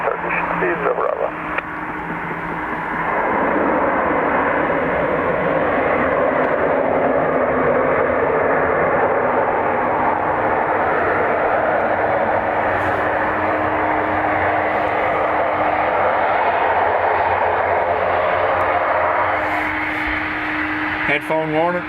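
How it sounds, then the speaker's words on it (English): An ATR turboprop comes in to land at Dublin Airport, a broad steady roar rising within the first seconds and holding throughout before easing slightly, with radio voices talking over it. "Looks like our ATR is coming down here."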